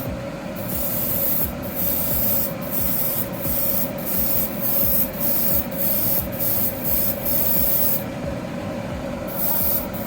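A continuous airbrush hiss sprays paint onto a model car in repeated bursts with brief pauses between them, close and steady, then one longer spray near the end.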